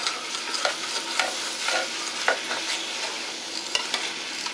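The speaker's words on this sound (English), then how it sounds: "Just going to pour that in, and you can hear how that's going to sizzle off of the bottom" Steady crackling sizzle of milk hitting a hot pan while deglazing for sausage gravy, with occasional scraping taps, fairly close and continuous with no talking.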